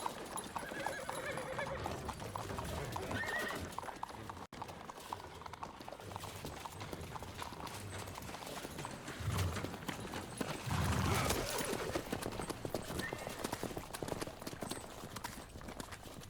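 Horses in The Witcher 3 trot with steady clip-clop hoofbeats and loud whinnies, close and continuous, with a louder burst of neighing near the end and no speech.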